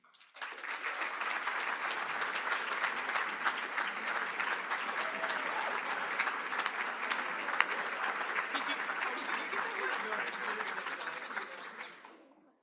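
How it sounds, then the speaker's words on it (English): Sustained applause from an audience at a pharmacy school awards celebration, dense steady clapping lasting over ten seconds before fading, with faint voices mixed in. "Let's have another round of applause for all of the award winners."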